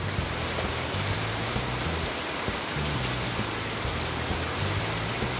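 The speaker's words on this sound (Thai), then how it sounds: "ฝนมาแล้วตกแรง" Heavy rain pours down steadily during a storm as seen from indoors at home, a dense, constant hiss of downpour with no voices.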